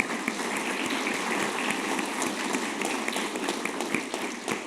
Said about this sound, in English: So let's just give them all a round of applause right now.